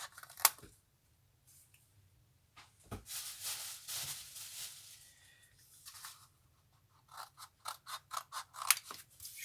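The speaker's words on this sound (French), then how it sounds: "2 secondes, je coupe mes angles." Scissors trimming the corners of a paper Christmas mini album, a series of faint crisp snips and mechanical clicks, scattered at first and then quick repeated cuts near the end, close and quiet.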